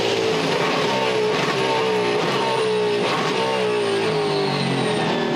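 A 2012 V8 Supercar races at Yas Marina, its engine blaring loud and close from on board as the driver brakes hard into turn 8 and rattles down through the gears, with revs rising and falling continuously throughout.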